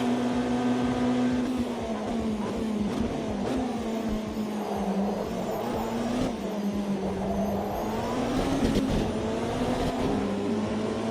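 A race car in a sim racing game spinning its wheels under acceleration, a steady droning engine tone that wavers and climbs with faint scrabbling tyre noise over it, held loud and close throughout.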